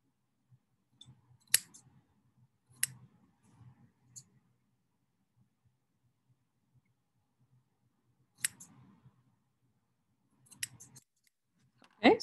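Scissors snip through fabric diagonals in a few sharp, close bursts of cutting spaced by quiet pauses, with faint handling rustle in between.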